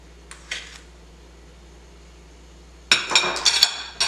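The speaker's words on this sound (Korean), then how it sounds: "그리고 숟가락으로 재빨리 섞어줍니다" A spoon rapidly mixing sugar into sifted rice flour for homemade rice cake, heard as a burst of close, bright clinking and scraping against a bowl after near-silence with a few light taps.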